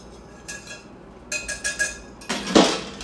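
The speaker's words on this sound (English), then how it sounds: "I'm going to whisk all my ingredients together just to get them well blended." Ingredients are whisked together in a bowl, heard as quick bursts of metallic clinking and rattling against the bowl with short pauses between them and a louder clatter at the end.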